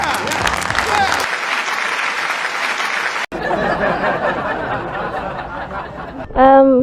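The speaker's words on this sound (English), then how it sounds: "Clap on for yourself." A crowd bursts into sustained applause, dense clapping that continues steadily, with a short gap and a brief voice near the end.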